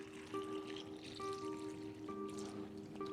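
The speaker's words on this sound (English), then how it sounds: "we're just going to simulate that by pouring some tap water in here" Tap water is poured into a container during a Kangen water demonstration, making a steady, close trickle and splash that runs for the whole span over a faint background hum.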